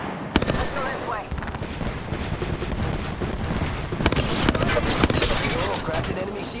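Rapid automatic gunfire and impact cracks from an Apex Legends match, dense bursts running throughout at close range, with game voice callouts layered over the shooting.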